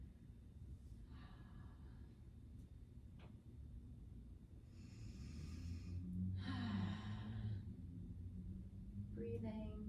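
Deep breaths drawn and released during a splits stretching routine, soft airy inhales and exhales rising in the middle and end over a low steady background hum.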